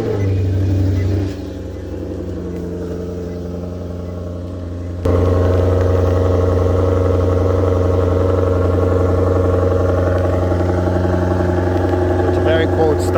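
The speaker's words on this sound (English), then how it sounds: "I'm gonna turn it on so you guys can hear the exhaust of the car" A 2018 Maserati GranTurismo cold-starting: a quiet interval, then the engine abruptly fires and settles into a loud, steady, deep exhaust idle close by.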